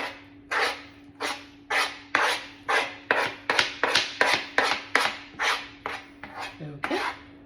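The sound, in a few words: grating lemon zest and parmesan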